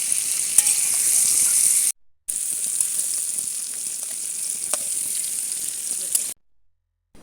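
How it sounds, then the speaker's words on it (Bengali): Vegetables sizzle and spit steadily in oil in a frying pan, a loud, dense crackle that runs on continuously apart from two short silent gaps. "আর একটু ভালো করে ভেজে নেব"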